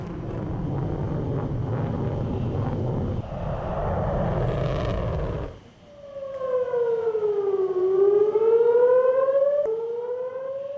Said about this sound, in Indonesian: sirine berbunyi di seluruh Tel Aviv